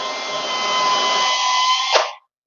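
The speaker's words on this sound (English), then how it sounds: "pre-drilling the length of a 30 mil screw also with a 3 mil drill bit" Power drill with a 3 mm bit pre-drilling wood for a 30 mm screw while building an under-stairs pull-out drawer: one loud, close, steady high whine lasting about two seconds, then a short bind as it winds down and stops.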